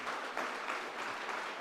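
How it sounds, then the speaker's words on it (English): Audience applause at an International Women's Day celebration and wellness event, a steady wash of clapping from a crowd, fairly soft and even throughout. "Let us welcome with a big round of applause,"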